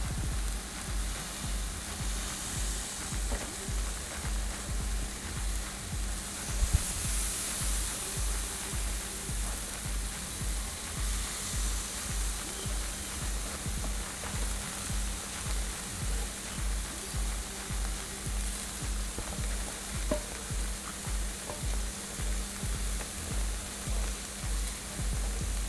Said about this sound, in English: we're gonna put the chicken on, and what we want to do is cook it on one side and get some nice grill marks